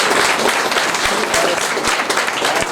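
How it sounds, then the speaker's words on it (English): An audience applauds and cheers for a guest on a Tamil television show, producing loud continuous clapping with scattered sharp claps standing out, heard close and without talk. "Please give her a cheer."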